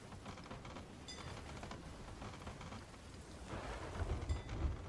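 Thunderstorm at sea in the Sea of Thieves video game: constant dense rain and wind noise with low rumbling thunder swelling near the end, no voices.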